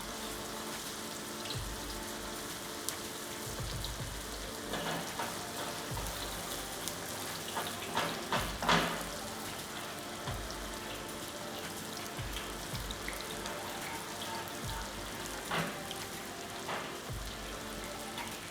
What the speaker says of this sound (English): Then I place the Stone Kadaif into the hot oil.